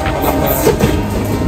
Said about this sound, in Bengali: সেই ব্রিজের উপর দিয়ে আমাদের ট্রেন প্রবাল এক্সপ্রেস চলে যাবে কক্সবাজারের উদ্দেশ্যে